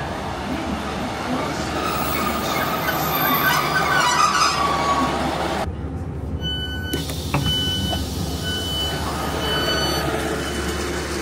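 A Transport for Wales passenger train pulls away from Bridgend station, its loud rumble and rail noise running throughout, with a sudden shift in the middle and brief tonal beeps.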